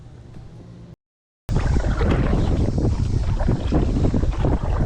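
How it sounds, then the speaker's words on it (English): Strong wind blowing outdoors on a bass-fishing outing, a steady loud roar buffeting the microphone after a brief quieter moment and a short gap of silence. "the wind has picked up quite a bit at this point"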